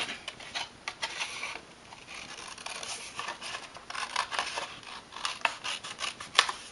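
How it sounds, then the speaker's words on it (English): Scissors snip through paper box sections for a party favor treat box, a run of soft crisp cuts and rustling paper close by, quiet and alone with no talk. "So you want to cut off this last section that has no tab on it."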